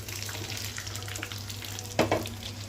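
Green chilies and curry leaves frying in hot oil for pulihora: a steady close sizzle with a couple of sharper crackling bursts near the end, no talking.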